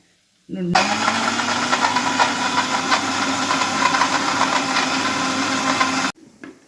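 An electric mixer grinder grinds ragi millet with a loud, steady whirring roar that starts abruptly, runs for about five seconds, then cuts off, leaving a faint rattle.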